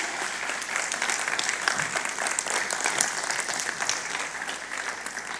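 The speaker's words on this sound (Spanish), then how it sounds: "Se merece un aplauso" A congregation at a religious sermon breaks into sustained applause, a dense continuous wash of many hands clapping that fills the room evenly at steady volume for several seconds.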